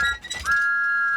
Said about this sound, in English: Thomas was so excited, he blew his whistle louder than ever.